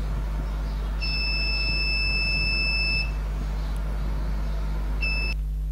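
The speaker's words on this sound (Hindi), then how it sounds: "दोनों में से कोई एक भी ट्रू हो जाए तो बजर बजता है" An electronic buzzer in a Python logic project sounds a sustained high-pitched tone for about two seconds, then a shorter burst, over a constant low electrical hum.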